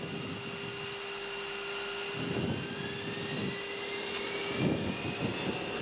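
Air France A340-300 jet engines during takeoff, a loud continuous roar with a steady whine that slowly rises in pitch, heard alone from inside the aircraft.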